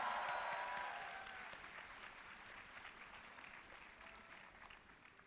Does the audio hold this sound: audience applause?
yes